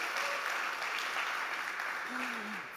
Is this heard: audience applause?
yes